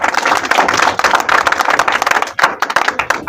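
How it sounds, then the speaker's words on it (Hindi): Loud clapping from a game-show audience, a dense, fast patter of hands close to the microphone for about three seconds, with a brief dip in the middle before it resumes. "जोरदार तालियां हो जाए।"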